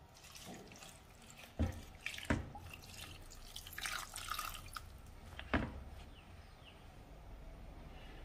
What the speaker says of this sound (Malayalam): അതിലേക്ക് എടുത്തു വച്ചിരിക്കുന്ന തേങ്ങാപ്പാൽ ഒഴിക്കാം.